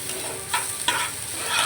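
Mung dal paste with salt frying in a pan, a steady close hiss with a few brief scraping stirs, no voices.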